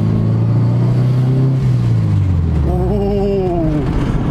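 Honda Civic with a built engine revving loudly up close, a deep sustained drone that rises in pitch toward the end of the burst.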